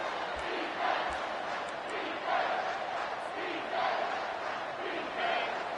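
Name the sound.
stadium crowd noise in the video game College Football 25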